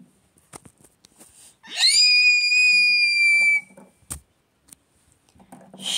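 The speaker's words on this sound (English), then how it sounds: "Please don't scream in airplane" A single shrill, sustained scream rises sharply and holds for about two seconds on an airplane, flanked by quieter voices and small noises.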